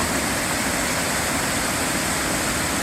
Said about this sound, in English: Decent sized waterfall